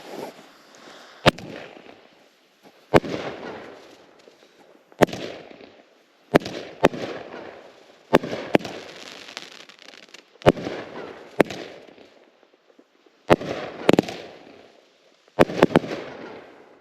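A 200 gram firework cake firing shot after shot, each sharp launch bang followed by a crackling, fizzing burst, roughly one volley every one to two seconds, fairly close and loud.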